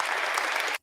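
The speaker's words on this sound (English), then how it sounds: "applause" Applause plays from a Stream Deck soundboard, a dense burst of crowd clapping at steady loudness for under a second before it cuts off abruptly into silence.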